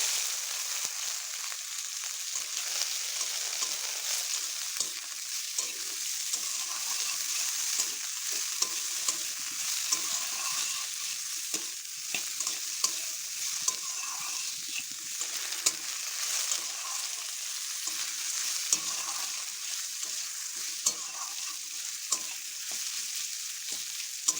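Carrots and other vegetables fry in a pan with oil, dried red chili and bay leaf for a quick fried rice, giving a continuous close hiss of sizzling with faint occasional crackles throughout.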